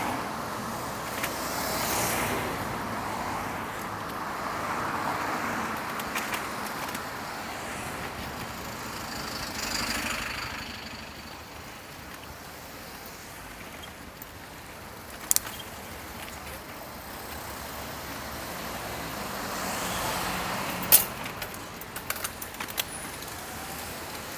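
Cars passing a cyclist at a narrow pinch point on a road through Richmond Park, London, with broad swells of tyre and engine noise rising and fading three times over steady road and wind rumble.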